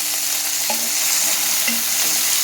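Tomato, coriander leaves and mint sautéing in oil, a loud, continuous close sizzle with a couple of light stirring scrapes.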